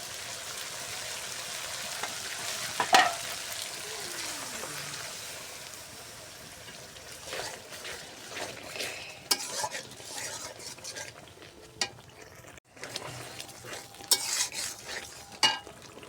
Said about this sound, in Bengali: এখন এই মশলাটা সুন্দর করে কষাই নেব